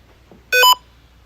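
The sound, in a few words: beep from a detector device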